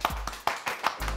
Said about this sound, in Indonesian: yang di pojok jangan lupa tepuk tangan itu.